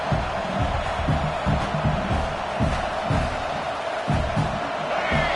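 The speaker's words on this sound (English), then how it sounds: "This crowd, full throat, spreading the eardrums and letting them know it's going to be a long day." A packed football stadium crowd at Illinois vs Clemson roars at full volume, a dense wall of cheering and yelling that carries through the whole stretch.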